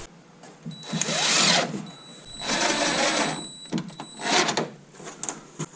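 A power drill drives a screw into a wall stud in a school bus conversion shower, whirring up in three long bursts with short pauses between them, loud and close, with no talk.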